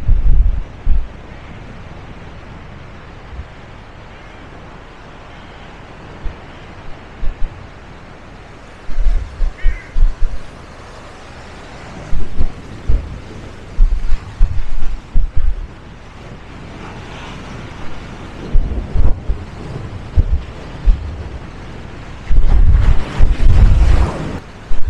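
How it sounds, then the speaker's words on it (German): Strong wind buffets the microphone on a Baltic Sea pier at Fehmarn, a steady roar broken by repeated loud gusty rumbles, with a faint wash of surf underneath. "Hier ist ein Wind, ne, auf der Mole."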